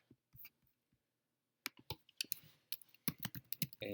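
Close computer keyboard typing: a few scattered keystrokes, a pause, then a quick burst of crisp clicking keys in an irregular rhythm.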